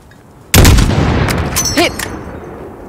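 A single heavy sniper rifle shot in Call of Duty Modern Warfare at a target about 600 meters away, sharp loud blast with a long rolling echo that fades over two seconds, and a faint radio chirp in the tail.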